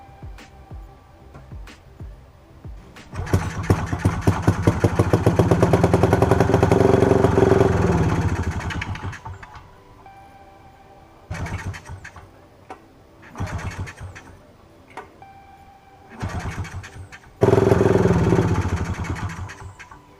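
An old paramotor's small two-stroke engine with a carburetor fault sputters and catches briefly when fuel is added, revving up loudly for a few seconds, then dying into repeated short, stuttering bursts.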